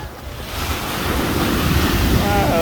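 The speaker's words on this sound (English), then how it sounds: "That was a big wave." Sea waves break on a beach, a loud, close surf roar swelling and washing in, with heavy wind buffeting the microphone.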